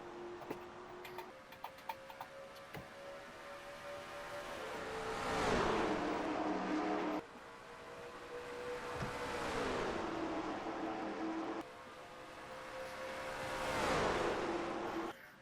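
Video game race car engines roar past in three sweeping waves on the California track, each swelling and fading like cars flying by, steady and moderately loud.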